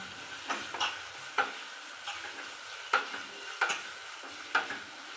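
Hot oil sizzles quietly with spices and coriander powder while a spoon stirs and taps against the pan in irregular clicks, close by.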